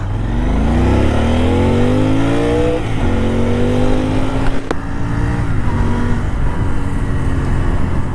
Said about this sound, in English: So let's rev it out.